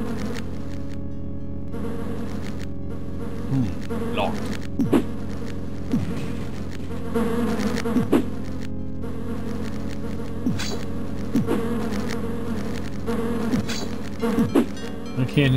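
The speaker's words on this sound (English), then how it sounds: "Freaking place is full of bees." Bees buzz constantly in the DOS video game Lands of Lore: The Throne of Chaos, a steady droning hum with frequent swooping flybys passing close, alone with no speech.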